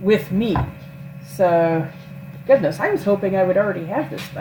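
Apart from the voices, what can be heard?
None of the usual background noises is heard.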